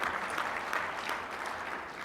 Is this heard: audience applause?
yes